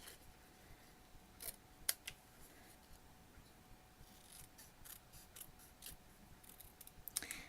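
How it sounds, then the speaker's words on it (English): Scissors snip through a paper card piece for a handmade holiday home card, giving a handful of sharp, close clicks and short cuts spread across an otherwise quiet tabletop scene. "So let's go ahead and cut out our happy new home. I'm just going to use my scissors for this."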